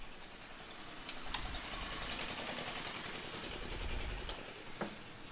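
A TVS Ntorq scooter with a rough-sounding engine is turned over gently with its kick starter, giving a steady mechanical churning with a few sharp ticks and clanks close by.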